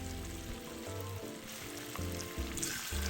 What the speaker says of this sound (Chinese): 油温保持在160到170度，中火油炸，油炸至外壳金黄即可